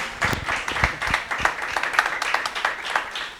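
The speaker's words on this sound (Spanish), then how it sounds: "Un fuerte aplauso para Esther Lidia." Audience applause for a guest on a Spanish-language program, with scattered, uneven claps of moderate loudness over a few seconds, close and somewhat sparse.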